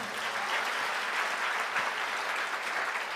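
A congregation applauds during a sermon, a full, even wash of many hands clapping together at moderate volume, continuous throughout with no voices standing out.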